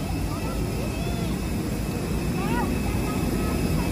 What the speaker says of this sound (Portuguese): Olha o avião, o tamanho, ó.